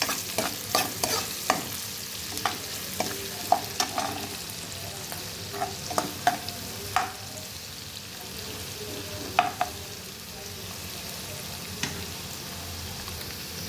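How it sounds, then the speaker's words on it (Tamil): Beans being stir-fried in a pan for paneer fried rice: a steady low sizzle broken by repeated sharp scrapes and clanks of a spatula against the metal, spaced irregularly, close and clear with no talking. "பீன்ஸ் நல்லா ஒரு 2 பெரட்டிட்டு"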